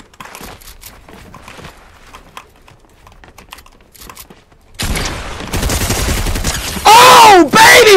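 Shotgun blasts ring out in a Fortnite match, a loud burst of heavy shots arriving late after quieter in-game sounds and faint movement, with a player voice reacting nearby.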